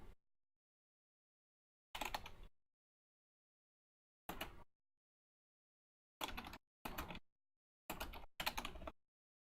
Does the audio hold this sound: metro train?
no